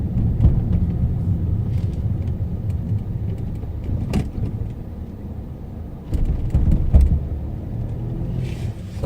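A car turns left in drive along a guide line on the Gangseo driver's licence road test D course; a low, steady engine and road rumble fills the cabin, with a brief surge near the end.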